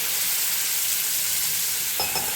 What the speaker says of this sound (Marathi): आता आणखी ह्याच्यामध्ये मी पाणी टाकते.